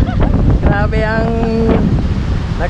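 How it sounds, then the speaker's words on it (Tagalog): Strong wind roaring at Danao Adventure Park, buffeting the microphone in a constant heavy rush while voices call out over it. "sobrang lakas ng hangin"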